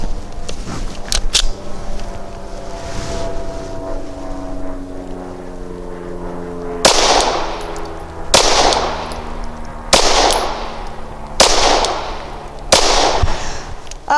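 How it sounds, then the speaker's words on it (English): A Glock 17 pistol fitted with a compensator fires single shots outdoors at a range, four sharp reports spaced about two seconds apart over a steady background hum. "it does make this a very, very flat shooting pistol"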